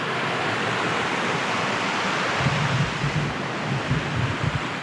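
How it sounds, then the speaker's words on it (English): River flowing past a wilderness campsite in the Canadian backcountry, a steady, full rushing of water with no break, loud and close, with no voices. "Right by the river."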